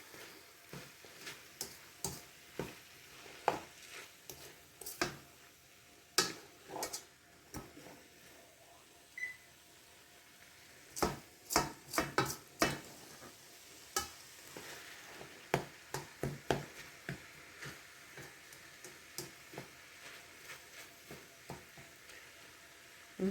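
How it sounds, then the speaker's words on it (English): Lasagna sauce seasoned with onion and garlic powder being stirred in a pot, a steady run of scraping and knocking strokes at close range, with no talk. "Let's get that stirred up"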